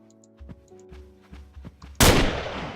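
A series of soft thumping footsteps or hits in a modded Minecraft world, then one sudden loud gunshot that rings out and fades at the end.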